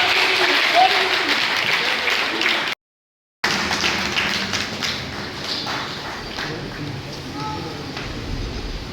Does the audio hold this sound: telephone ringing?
no